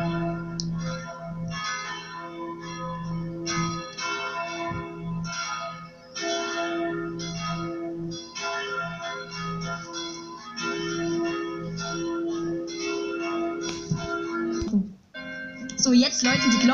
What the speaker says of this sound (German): So, jetzt läuten die Glocken.